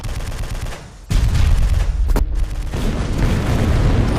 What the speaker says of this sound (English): Oh, and I'm getting shot at from over here.